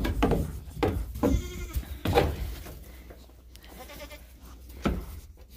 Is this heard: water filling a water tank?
no